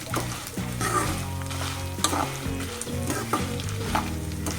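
Ginger and spices sizzle in hot oil for ginger chutney while being stirred, a close, steady crackling fry with scraping stir sounds and no voices.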